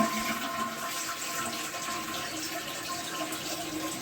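A household toilet in a powder room flushes to empty its tank after the water supply is shut off, a loud, steady rushing and gurgling of water close by for the whole stretch.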